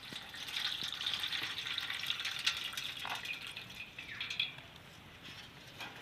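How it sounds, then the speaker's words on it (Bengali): Lime water is poured off soaked ash gourd pieces as a faint, steady trickling stream that drips and splashes lightly for several seconds, then thins out near the end. "এবার আমি চুন জলটা ফেলে দিচ্ছি।"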